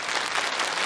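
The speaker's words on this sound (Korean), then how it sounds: "이번 교육생 박수 함께 나오도록 하겠습니다." Audience at a public comedy show for Jeonju MBC claps in a steady, dense wash of applause that fills the whole short moment, fairly close and without any voices over it.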